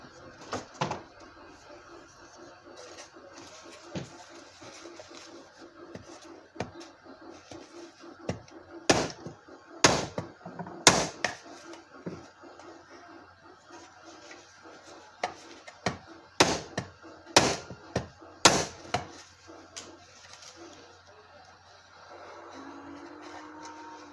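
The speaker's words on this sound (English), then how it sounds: "Get my flat hammer out." Sharp metallic taps of a flat hammer on a Marx toy train tender ring out in scattered bursts, some single and some in quick clusters, separated by quiet pauses.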